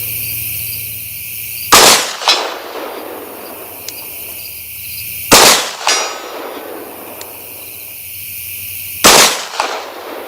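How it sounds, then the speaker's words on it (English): Three loud, sharp pistol shots from a Springfield Echelon fired outdoors at a 100-yard target with iron sights, evenly spaced a few seconds apart, each followed by a brief ringing echo over a steady insect-like background hiss. "shooting 100 yards with iron sights in daylight can be challenging"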